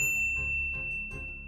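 A notification bell sound effect rings out in a series of bright, clear dings with a sustained ringing tone, fairly quiet and with no talk over it.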